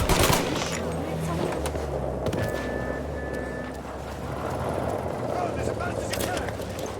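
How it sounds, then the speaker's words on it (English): Gunfire in Mafia: Definitive Edition, a burst of sharp shots near the start followed by scattered cracks over engine noise and voices talking throughout. "Shots fired, please respond."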